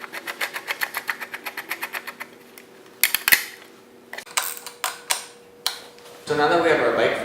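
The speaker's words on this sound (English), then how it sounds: "you can put the 10mm wrench onto the back of it and tighten it down" A 10mm wrench tightening the reflector nut on a Rosso Motors eATV gives a run of quick, even ratchet ticks, then a few sharper metallic clinks and taps, close up, ending in a burst of rustling handling noise.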